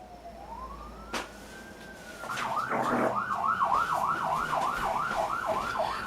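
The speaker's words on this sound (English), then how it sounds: "where I live you rarely hear sirens" A police siren sounds at a distance, starting with a long rising wail and then switching to a rapid repeating yelp, moderately loud over faint background noise with no talking.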